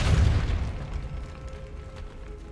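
The Depulso force spell is cast in Hogwarts Legacy, a sudden heavy boom with a burst of low rumble that fades away over about two seconds, leaving a faint lingering tone.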